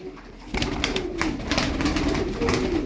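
Tumbler pigeons coo in low, throaty rolling calls, several overlapping and close by, with a soft fluttery background.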